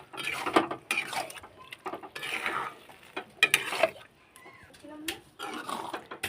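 Pav bhaji vegetables with potato stirred and mixed in a pan, giving intermittent scraping and stirring strokes with a faint sizzle, heard between stretches of talk.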